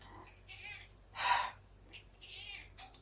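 A hungry cat fussing for food, giving a few short, faint meows and one louder cry close by in a quiet room.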